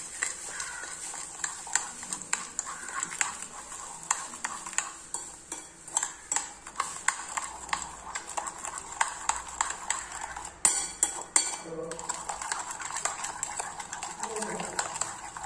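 Sugar being stirred into vettu cake batter in a bowl: rapid, irregular clinks and taps of a spoon against the bowl over fifteen seconds, close and fairly soft, with a person talking at times.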